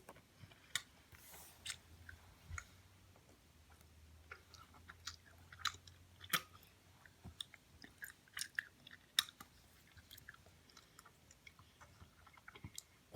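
Harry Potter jelly beans are chewed close to the microphone, giving soft, irregular crunchy bites and mouth sounds at low volume with short pauses between them.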